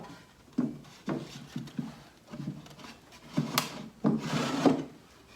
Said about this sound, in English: I'm now going to do a test fit of sliding this drawer right into the base cabinet here.